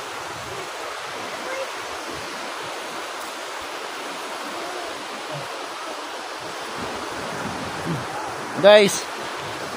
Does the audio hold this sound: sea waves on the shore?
yes